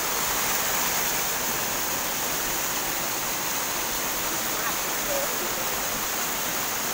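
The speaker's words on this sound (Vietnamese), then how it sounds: "cái tiếng thác nó đổ ồn một tí các bạn thông cảm nha" A wild waterfall at Lung Chiêng, Phúc Sơn, Chiêm Hóa, Tuyên Quang, pouring from a height as a loud, steady roar of rushing water that fills the whole scene without a break, heard up close with no voices.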